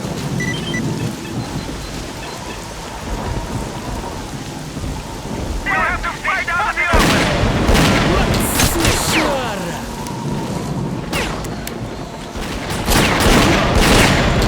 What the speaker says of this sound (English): took 4 shots at him